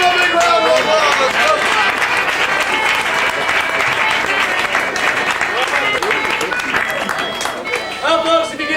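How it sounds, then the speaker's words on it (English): Outdoor crowd at a dog trick show on an Alaska cruise stop breaking into lively applause and cheering, dense clapping mixed with excited voices and some shouted calls, loud and close. "Give him a big round of applause!"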